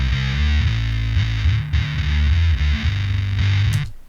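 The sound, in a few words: guitar distortion effect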